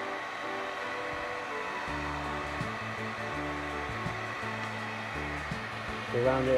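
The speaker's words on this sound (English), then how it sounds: "So we've got a heat gun." A heat gun blows steadily up close while softening the glue around the battery case of an Aovo Pro electric scooter during a repair, a continuous whooshing hum with shifting pitch and a brief rise near the end.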